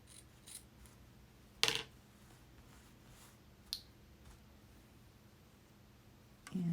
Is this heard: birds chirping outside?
no